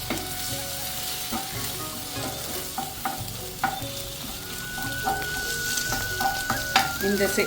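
Eggs fry and are stirred in a hot pan, a dense, close sizzle running throughout with repeated clinks and scrapes of a utensil against the metal.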